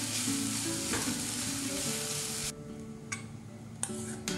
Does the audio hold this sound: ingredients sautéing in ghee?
yes